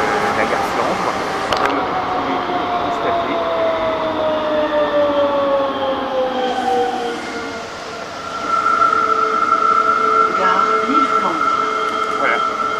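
Ambience at Gare Flandre train station: a steady rumble of rail traffic with long tonal squeals and whines from a train, a brief dip in level midway, then a sustained high tone, with faint voices in the background.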